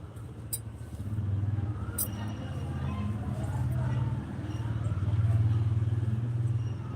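A small auto rickshaw engine chugs and rumbles steadily while riding, rising and falling slightly, with occasional clatter and a voice speaking faintly over it.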